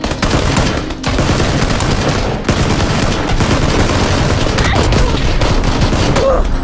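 Loud, dense gunfire from a PC shooter game fills the whole stretch as continuous rapid automatic bursts, with only brief dips between volleys.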